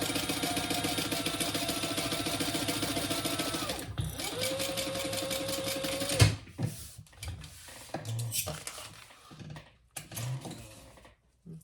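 A sewing machine bastes fabric in place for a crossbody bag, its motor whirring in a steady, close stitching run for about four seconds, then a shorter run followed by scattered handling clatter.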